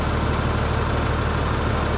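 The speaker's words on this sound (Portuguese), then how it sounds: "É uma rabeta com motor aqui, ó, é um motorzão mais forte. É um motor mais forte puxando a balsa." A powerful longtail outboard motor pulls a ferry raft across a reservoir, droning in a loud, steady, unbroken roar close by with no pauses.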